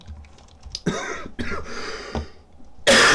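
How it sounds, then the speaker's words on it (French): Several rough coughs burst out close by in quick succession, harsh and breathy, with a louder hacking cough at the end. "Pardon, je tousse."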